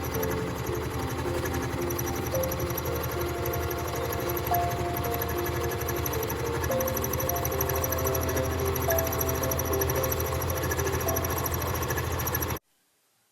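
A sewing machine stitching free-motion quilting through patchwork fabric, a fast continuous mechanical whirring and rattling hum that runs steadily, then cuts off abruptly near the end.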